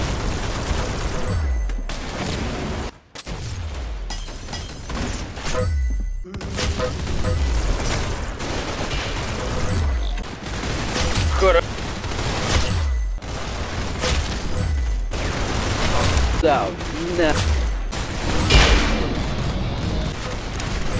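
Rapid gunfire in the Roblox Arsenal shooter game, dense bursts of loud shots and impacts that continue almost without a break, with brief gaps and a voice speaking now and then.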